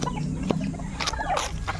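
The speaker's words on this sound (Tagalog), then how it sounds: "Si Papa po ay nagpapakain po ng mga alagang manok." Pet chickens cluck busily while being fed on a small home farm, with a rooster-like call and several overlapping clucks close by, continuous over a short stretch with no talking.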